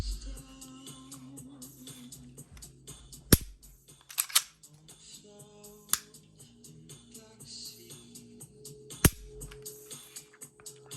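The trigger of a Shadow Systems XR920 pistol is dry-fired and handled, giving several sharp, loud metallic clicks spread irregularly among softer mechanical ticks and rattles, close up and with no talking.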